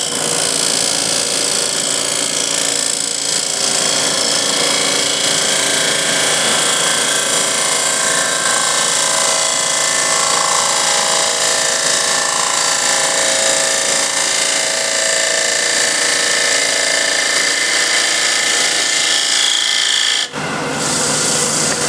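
A bowl gouge takes a steady cut on a spinning wood lathe, shaping a bowl: a loud, continuous hissing scrape that holds for about twenty seconds before a brief dip near the end.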